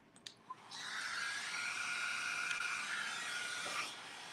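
A hair dryer blows on a wet paper mache Christmas box. A few small knocks come first, then a steady airy hiss with a thin whine runs for about three seconds and cuts off.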